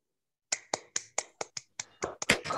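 An audience claps for two interns: a few evenly spaced single claps open the applause, then it thickens into denser clapping near the end.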